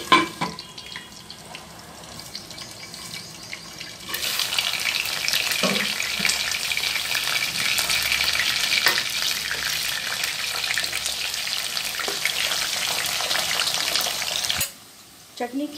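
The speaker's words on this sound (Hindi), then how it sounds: "अब इसको आलू के जो चिप्स कटे हुए थे फ्राई करके निकाल लेंगे। गोल्डन ब्राउन होने तक इसको फ्राई कर लेंगे।" Cut potato chips frying in hot oil until golden brown, a steady loud sizzle that starts a few seconds in and holds bright and continuous, with occasional clinks, then cuts off near the end.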